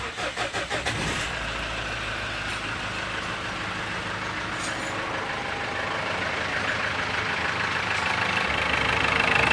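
A Ford Endeavour engine cranks with quick pulsing starter strokes, fires after about a second, then settles into a loud, steady idle that grows slightly louder toward the end, with no talking.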